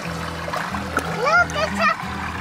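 A dog swims and splashes in water, with light, intermittent splashing heard close by under excited human voices.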